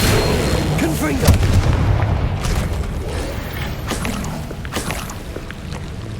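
Magic explosion spells, Bombarda and Confringo, blasting in the Hogwarts Legacy video game, with several booming impacts and crackling bursts over a continuous rumbling battle ambience, loud and close.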